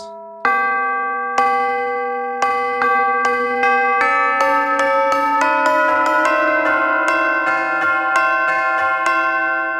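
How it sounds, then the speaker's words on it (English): Tubular bells ring out one after another, each loud chime sustaining and overlapping the last, building into a sequence of resonant tones. "Tubular bells."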